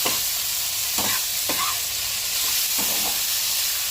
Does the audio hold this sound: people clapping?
no